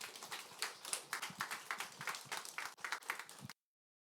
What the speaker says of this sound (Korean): 우리 박수로 환영해 주실까요?